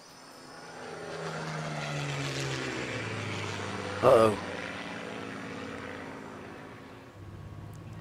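Propeller plane droning steadily in Shadow of the Tomb Raider, with game music and a brief louder burst midway, while someone speaks over it.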